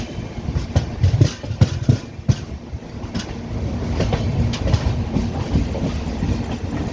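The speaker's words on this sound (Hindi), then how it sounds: "वो देखो सामने भी एक एक्सप्रेस निकल रही है" An express train rolls past a platform at a large ten-platform railway junction, a busy clickety-clack of wheels on rails with sharp knocks early on, then a steadier, moderately distant rumble.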